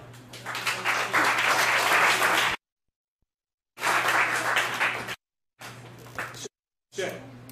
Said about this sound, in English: Round of applause for Aaron.